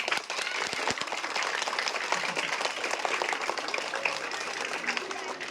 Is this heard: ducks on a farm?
no